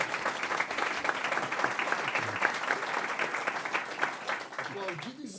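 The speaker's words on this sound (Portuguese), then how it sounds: "Aplaudido em cena aberta" Steady audience applause fills a conference hall after a speaker is congratulated, dense clapping holding for about five seconds before thinning out at the end.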